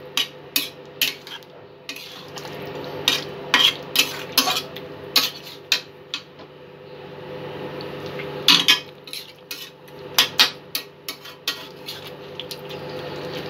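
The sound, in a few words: stir-frying kadai chicken ingredients in a wok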